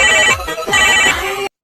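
A telephone rings with repeated electronic ringtone bursts, two clear rings in quick succession, loud and close with no voices over it, in a school drama skit about a kidnapping.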